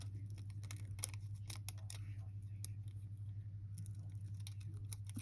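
Small scissors snip nail art decals, one piece at a time, with quick faint clicks and snips over a low steady hum, close and quiet.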